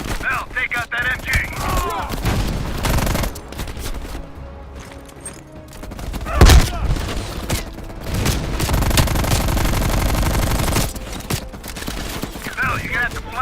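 Machine-gun fire in a Call of Duty Black Ops Cold War battle mission, dense bursts of shots mixed with explosions and a sharp blast midway, continuing loud under shouted voices.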